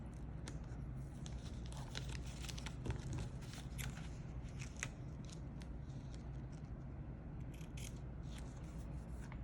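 Scissors snip through planner paper in rapid, crisp clicks and slices, close and fairly quiet, with light rustling of the sheet over a steady low background hum.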